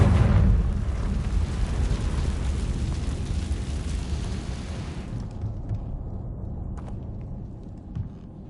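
A Confringo spell bursts into a loud, close explosion in Hogwarts Legacy, with a heavy boom at the start rolling into a long rumbling roar that fades over several seconds, leaving faint debris clicks and pops.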